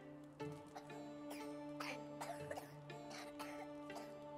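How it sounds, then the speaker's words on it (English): In the video game Medieval Dynasty, a child coughs repeatedly in short, harsh bursts spaced across the moment, fairly close, over a steady low background hum with no talking. "Oh my God, he's coughing his head off of us"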